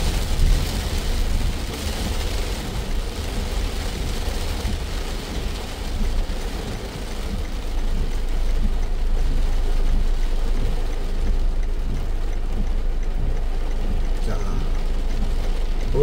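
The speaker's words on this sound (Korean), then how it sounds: "오늘 이렇게 비가 엄청나게 쏟아지고 있습니다." Heavy monsoon downpour during the rainy season, a dense, steady roar of rain pouring and splashing without letup, loud and continuous throughout with no voices.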